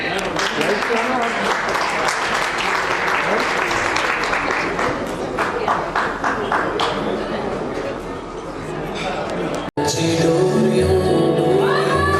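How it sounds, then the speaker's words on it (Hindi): An audience claps at a family 25th anniversary party after a dance performance, sustained loud applause with crowd chatter, ending abruptly as music cuts in near the end. "तालियां चलती रहें।"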